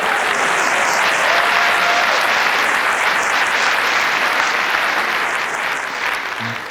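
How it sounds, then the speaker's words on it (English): A theatre audience applauds a comedian on stage, a loud, full, sustained wash of clapping from a large crowd that stays even for several seconds before easing slightly at the end. "that applause was for me, by the way."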